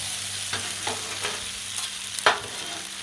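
Turkey stir fry sizzles on a Blackstone griddle with a steady hiss, and a few scraping stirs land through it, the sharpest near the end.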